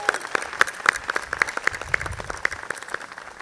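An audience at a Night in Oaxaca 2022 scholarship celebration applauds with a brisk run of distinct claps, moderately loud and rhythmic, with no talking.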